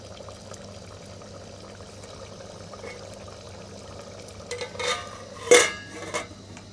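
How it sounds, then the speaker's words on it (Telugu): Spoon scraping and clinking inside a pot of fish curry with tamarind and cucumber, quiet at first, then a short cluster of louder metallic stirring knocks near the end, with no talking. "ఇంకైతే ఒక్కసారి కలిపేసుకుందామండి"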